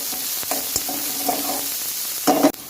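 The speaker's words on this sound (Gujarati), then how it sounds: "હવે આપણે ડુંગળી નાખી દઈશું અને આને સરસ સાંકળી લઈએ આપણે આપણે ગોલ્ડન બ્રાઉન થાય ત્યાં સુધી આને સાંકળી લઈએ ડુંગળીને" Chopped onions fry in hot oil and are stirred in a pan until golden brown, a steady sizzle broken by several sharp utensil scrapes and clinks against the pan.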